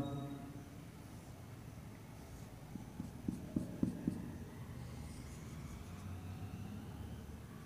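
A pen sketches a diagram by hand in a quiet room, with soft scratchy strokes and a short burst of quick taps partway through.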